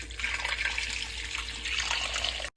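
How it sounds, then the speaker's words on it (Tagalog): Water pours steadily into a pan holding pork ribs for sinigang, a close, continuous splashing gush that lasts a couple of seconds and then stops abruptly. "Lagyan natin ng tubig."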